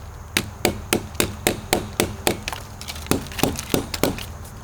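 A Gideon Optics Alpha red dot sight fixed to wood takes a rapid string of hammer strikes, each a crisp close knock with a splintery edge, evenly spaced and then slightly irregular, with no voices.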